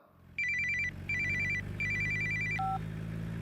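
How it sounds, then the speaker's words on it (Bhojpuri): A phone ringtone sounds in a Bhojpuri film scene: three clear electronic beeping bursts over a low hum, then a brief lower tone cuts in. "ए सुन, तोरे लिए फोन है।"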